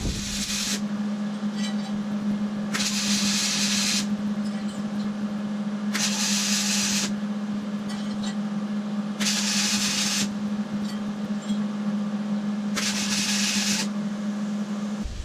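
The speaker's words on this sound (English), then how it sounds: "let's get this welded up" Welding on a custom in-bed tire carrier bracket for a Ford Ranger, with a steady electric hum underneath and five loud bursts of crackling arc, each lasting about a second, spaced a few seconds apart.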